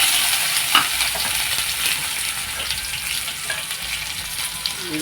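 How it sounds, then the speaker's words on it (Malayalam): Mustard seeds popping and crackling in hot coconut oil for Onam sadya sambar tempering, a steady bright sizzle with scattered sharp pops and faint stirring, close and alone. "കടുക് പൊട്ടി തുടങ്ങി"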